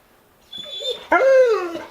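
A dog gives a short whimper followed by a louder, rising yip and whine, close and clear, lasting under two seconds.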